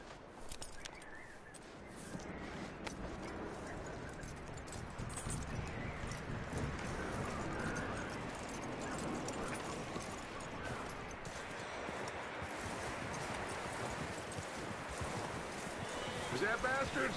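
Horse hooves clip-clopping in the Red Dead Redemption video game, a steady rhythmic patter of hoofbeats on ground running throughout at moderate volume, with a voice speaking over it and faint ambient game sounds behind.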